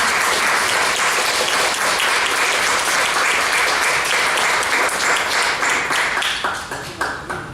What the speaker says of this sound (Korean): 우리 하나님의 감사의 박수 할까요?